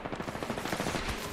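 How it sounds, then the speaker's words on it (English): Rapid bursts of video game gunfire, like automatic weapon fire in a shootout, rattle steadily through the whole stretch at moderate loudness, dense and continuous with no pauses. "Getting shot at."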